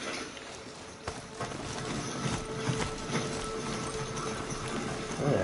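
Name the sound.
horse steed galloping in a video game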